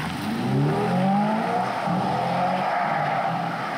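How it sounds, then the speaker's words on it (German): Hyundai IONIQ 5 N electric car accelerating hard, heard from outside, with a simulated engine note rising through several stepped harmonics like gear changes, loud and close over a few seconds. "ich will hören, wie sich der IONIQ 5N von außen anhört"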